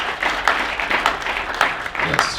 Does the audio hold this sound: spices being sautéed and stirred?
no